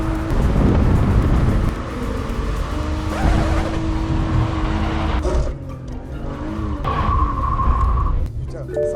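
A car drifting under heavy throttle, engine roaring loud and close with tire squeal through the drift, the tone shifting as the car slides; a voice talks briefly over it.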